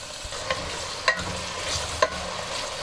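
Steady sizzling of onions frying in hot oil until light golden for aloo bhujia, with a few soft stirring clicks and scrapes at intervals.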